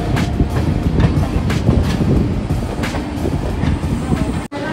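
Aboard the Jhelum Express between Pune and Jammu, the carriage rumbles loudly with rhythmic wheel clatter over rail joints, a steady rolling roar heard from inside the moving train.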